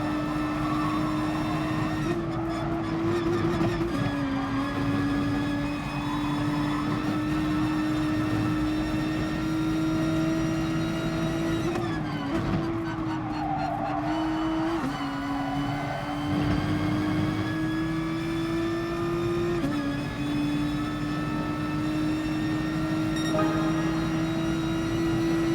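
Steady drone of a race car engine in GT Sport holding a sustained tone, with small pitch shifts during gear changes and lifts, close and continuous with no talk.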